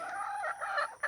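Black Orpington hens in a pen give a short run of fowl vocalising, with a drawn-out clucking call that breaks off and then returns as a brief final squawk. The sound is moderately close and there is no talking.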